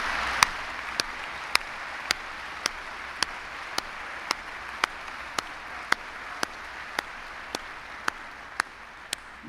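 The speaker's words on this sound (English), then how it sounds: "give them a wonderful applause" Steady applause for newly recognized program cohort students standing at a university presidential inauguration ceremony, a continuous wash of clapping held at a moderate level throughout, with sharp regular clicks ticking through it.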